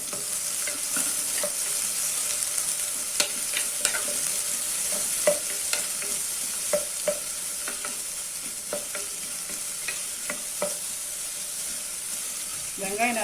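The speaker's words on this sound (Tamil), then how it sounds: "இப்போ தாளிப்பு போட்டுக்கலாம். நல்லா பொரியணும். வெங்காயமும் பச்சை மிளகாயும் போட்டுக்கலாம்." Onions and green chillies fry in tempering oil inside a pressure cooker for vegetable brinji rice, giving a steady close sizzle broken by scattered clicks and scrapes of stirring, with no talk.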